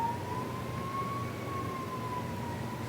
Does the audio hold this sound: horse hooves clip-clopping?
no